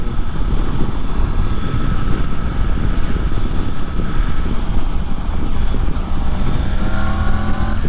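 Triumph Tiger 900 GT Pro motorcycle, 2024 model, riding at cruising speed with a steady engine drone mixed with heavy wind rush, holding constant throughout with a slight pitch rise near the end.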